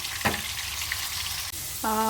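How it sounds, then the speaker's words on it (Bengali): Steady crackling sizzle of potatoes frying in hot oil in a pressure cooker, close and continuous, with a brief tonal beep near the end. "তো ভাজা হওয়া পর্যন্ত আমরা একটু ওয়েট করি"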